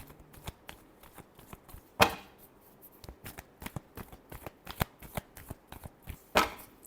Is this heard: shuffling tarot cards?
yes